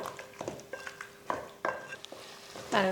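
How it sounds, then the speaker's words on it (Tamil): Biryani masala with chilli powder is stirred and sautéed in a pot. A spoon gives soft, uneven scraping knocks over a quiet sizzle, with a clink at the end. "சேர்த்து கலந்து விடுவோம் நல்லா ஒரு அஞ்சு நிமிஷத்துக்கு இதெல்லாம் வதங்கி வேகட்டும்"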